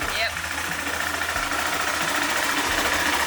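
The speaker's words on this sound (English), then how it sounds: "start the bike" A KTM Adventure motorcycle engine runs at a steady idle close by, a continuous low throbbing hum that holds level throughout.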